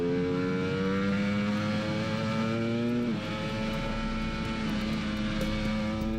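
Ducati Panigale V4 R superbike engine running through an unhomologated racing exhaust, a loud, steady high-pitched drone that shifts pitch slightly midway, with no voices.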